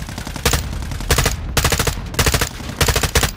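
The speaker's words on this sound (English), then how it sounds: "I just dropped a mortar strike over there." Mortar strike explosions in a video game: loud, close booming bursts land in rapid clusters at a steady rhythm, with no voices.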